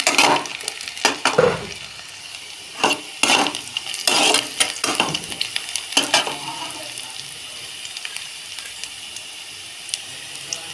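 Ingredients for Bengali maan kochu (taro leaf) paste frying in a pan, with repeated sharp scraping stirs of a utensil against the metal over a steady close sizzle that thins out toward the end.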